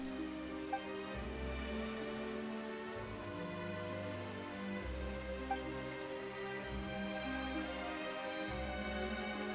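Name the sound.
sudden rain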